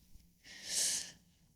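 One soft, airy breath is pushed out slowly to voice the divine name YHWH, a close, quiet hiss that swells and fades over about a second with no speech around it.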